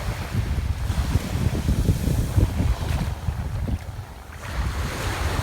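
Sea surf washing up on a Gibraltar beach, a steady rolling wash of water with wind buffeting the microphone, close and fairly loud throughout with a brief dip near the end.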